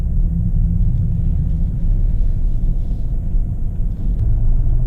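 A 2020 BMW 750i xDrive M Sport creeping through a very tight U-turn on a back street, giving off a low, steady rumble of engine and tyres at close range.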